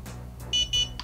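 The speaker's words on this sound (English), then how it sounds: "you hear the double beep, and it takes it off of that screen." Ulanzi TC001 desktop clock giving a double beep when its button is pressed and held: two short, clear, evenly spaced high electronic tones over a low background hum.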